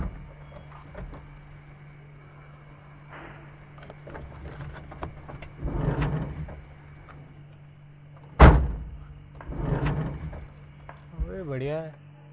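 A taxi car door thumps shut with a single solid slam partway through, amid soft background noise and muffled voices talking before and after.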